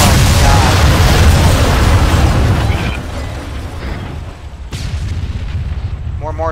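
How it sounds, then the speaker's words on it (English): Mortar shells explode in a multiplayer war game, a heavy rolling blast that dominates the opening seconds and then fades into a lower rumble, with another sharp impact and a short voice near the end. "More mortars incoming."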